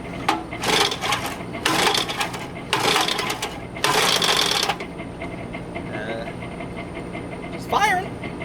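A restored 1964 Evinrude 3 HP outboard motor fires during a barrel test: several loud bursts of rapid popping, each lasting under a second, then it dies. Afterwards there is quieter background noise and a brief voice.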